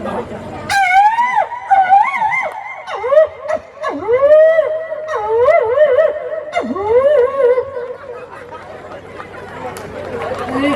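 A mimicry performer on stage imitates a fox howling, with long rising and falling wails and yips, loud and close, trailing off into faint audience murmur.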